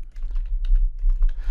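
Keys clicking on a computer keyboard as an Excel SUM formula is entered into a spreadsheet cell, a quick run of close, crisp taps with short pauses and no talking.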